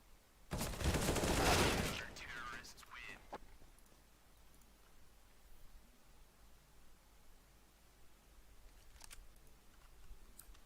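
A dense burst of rapid gunfire in Counter-Strike: Global Offensive for about a second and a half, then scattered fainter shots over steady low background noise.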